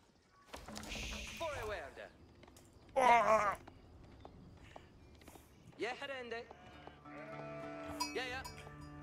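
Sheep bleat repeatedly in the strategy game Age of Empires IV, several separate wavering calls spread across the clip, one loud burst near the start of the middle, over faint game ambience with someone talking between them.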